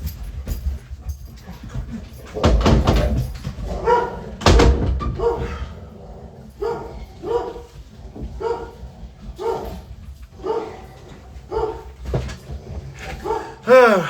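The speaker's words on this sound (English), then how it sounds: "My dogs are driving me nuts today." Several dogs bark in short, loud bursts scattered across the span, mixed with thumps like a door or cupboard, near and sharp against a quiet indoor background.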